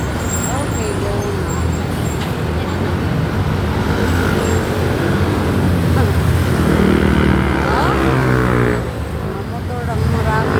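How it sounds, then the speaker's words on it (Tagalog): Street traffic with many motorcycles flows past, a steady loud roar of engines and tires with a rising, nearby engine pass, while people talk over it. "Mga motor ang marami."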